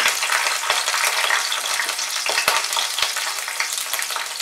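Capsicum frying in hot white oil in a wok over high flame, a loud, dense, continuous sizzle with a few sharp spoon knocks, close and alone.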